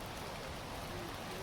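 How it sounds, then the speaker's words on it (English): Steady rain falling on a hiking trail, a dense, even hiss of drops with no pauses, moderately close and without any voices. "Ooh, there's rain."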